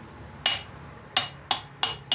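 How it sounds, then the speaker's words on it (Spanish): Hammer strikes a chisel to knock loose a part on a 2007 VW Passat: five sharp metallic blows at uneven intervals, close and loud, with no talking. "con un martillo y un cincel vamos a retirar la primera parte"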